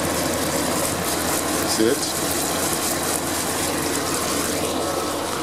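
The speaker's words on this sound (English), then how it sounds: "you can hear this one, my window unit for the office. You can hear it." A window air conditioner in an office, seemingly an LG inverter unit, drones loudly and steadily at close range as a broad constant hum with a low mechanical rumble, while a voice speaks briefly over it.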